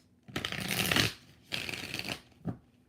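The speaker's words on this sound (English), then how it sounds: "So let's do 5 shuffles with the Nightmare Before Christmas." A deck of Nightmare Before Christmas tarot cards is riffle-shuffled close up, with two long crisp flurries followed by a short final snap, all quiet and without voices.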